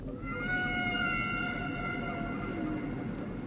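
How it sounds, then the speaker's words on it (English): A humpback whale sings beneath a frozen ice-covered sea surface, long sustained tonal moans with rising harmonics held over a low rumbling ambience, one continuous call. "A whale song."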